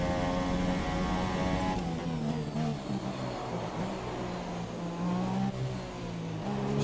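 A Renault Formula 1 car's engine revs in the F1 2017 racing game at the Mexico circuit, a loud continuous high-pitched whine with harmonics that climb and fall through gear changes.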